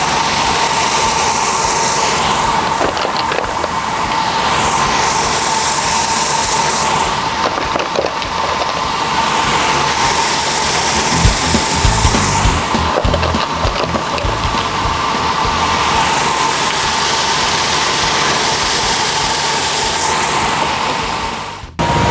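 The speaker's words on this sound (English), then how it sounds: "I'm going to take these and put them in this vibrating tumbler, which will deburr and give a uniform finish to the strainer" A vibrating tumbler deburrs and finishes metal percussion strainer bodies, giving a loud, continuous mechanical hum and rattling churn that holds steady throughout with slight pulsing variations.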